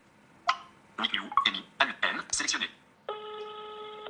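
A telephone call is placed, with a person speaking nearby at first, followed by a steady electronic ringing tone in the earpiece.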